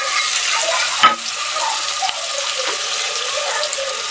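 Tomato and onion paste frying in a pan for shol fish curry, a close, even sizzle with one sharp clank early on and faint stirring scrapes, no talking.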